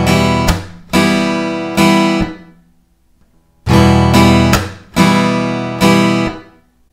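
Acoustic guitar strumming a two-chord beginner pattern, loud and close, with sharp muted percussive strokes between bright ringing downstrokes and upstrokes in a steady rhythm, played alone.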